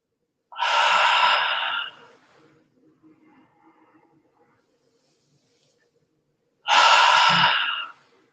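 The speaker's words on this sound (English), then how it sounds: "This is a complete diaphragmatic breathing." Two long, loud breaths are drawn in and pushed out during a diaphragmatic breathing exercise. They come close up with a quiet pause between them.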